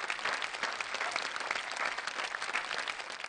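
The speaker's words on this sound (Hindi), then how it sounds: "जरा जोरदार तालियां।" Audience applause from a studio crowd at a Hindi comedy-poetry show, steady dense clapping that fills the whole stretch at an even level, loud and close with no talk over it.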